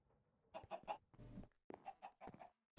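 Chickens from Minecraft Sky Factory 3 cluck in short, quick bursts, a few pecking calls spaced close together, fairly quiet and without speech.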